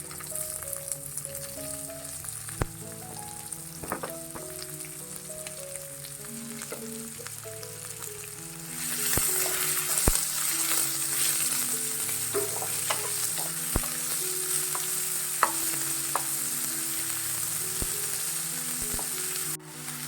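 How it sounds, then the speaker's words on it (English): Onion and curry leaves sizzle in a pan for a Goan potato bhaji. Soft background music plays throughout, and the frying grows louder and brighter partway through, with occasional sharp spatters and stirring clinks. "Once this onion is little bit translucent, like sweat the onion"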